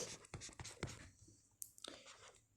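A pen scratches across a writing surface in a classroom lesson, a few quick faint strokes and taps close by, then a short squeak, all quiet with no talking.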